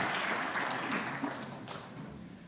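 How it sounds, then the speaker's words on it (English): Audience applause at an agricultural congress, a soft, fairly distant wash of clapping from a hall crowd that gradually tapers off. "Yes, you can give applause."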